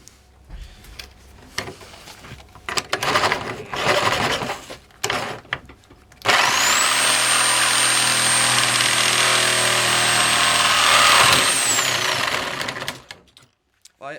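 A Bosch GSA1100E reciprocating saw cuts through thin 20 by 20 mm square steel tube, 1 mm wall, in a loud, steady, high-pitched buzzing run lasting several seconds, preceded by scattered handling noises and brief bursts.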